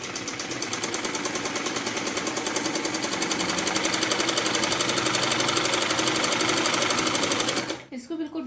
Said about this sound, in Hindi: इसी तरीके से नीचे तक इसमें फिटिंग की सिलाई लगा लेंगे।